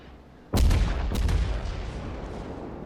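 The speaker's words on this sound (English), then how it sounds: "secondary gun's just going crazy" Two heavy gun blasts about half a second apart from a Yamato battleship's secondary guns in World of Warships, loud and close, each leaving a long rumbling boom that hangs on after the shots.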